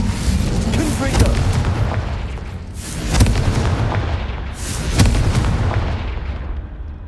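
Loud, booming fire-spell explosions in the Hogwarts Legacy video game, with three big blasts spaced a couple of seconds apart and dense crackling game effects between them.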